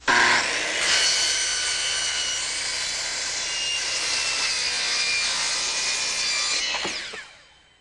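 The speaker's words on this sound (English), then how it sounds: "using this a standard carbide blade, cut right on the line" A standard carbide saw blade cuts straight through a vinyl railing cap laid over a 2x4 filler, a loud, close, sustained whine and rasp that starts abruptly and winds down at the end.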